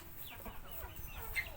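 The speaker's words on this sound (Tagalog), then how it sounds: "malalaking manok, at ito na lang po yung mga natitira." Chickens in a backyard poultry house give soft, brief clucks over low farmyard background noise, with one slightly louder call near the end.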